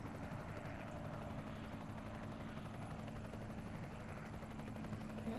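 Helicopters in the Panzer Rush video game give off a steady rotor whir with a rapid, even thumping chop, continuous and moderately loud, and no voices over it.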